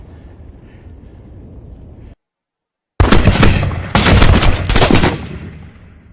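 Gunfire in a film scene as several snipers open fire on a man: a quiet stretch and a brief dead silence, then loud dense bursts of shots crackling close and hard for several seconds before trailing off.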